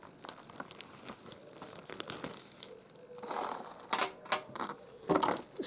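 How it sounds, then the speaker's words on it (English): Paper is crinkled and torn while being unwrapped from a Heljan 00 gauge Class 33 model locomotive, with soft rustling giving way to louder bursts of crumpling and tearing near the end. "let's get it out of the paper first"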